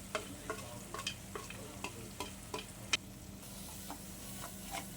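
Chilli powder and turmeric masala frying in oil for appalam kozhambu, a faint, quiet sizzle with a series of light spoon stirs and ticks against the pan, no voices.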